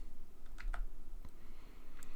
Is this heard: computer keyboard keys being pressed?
yes